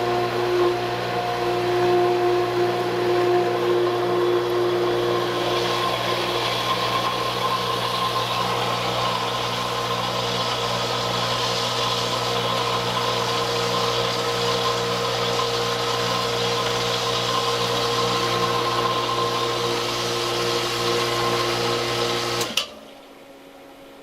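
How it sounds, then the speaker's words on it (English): A water pump runs steadily after priming during a plumbing check valve test, giving a loud continuous mechanical hum with a constant drone that stops abruptly near the end, leaving quieter room tone. "prime the pump more"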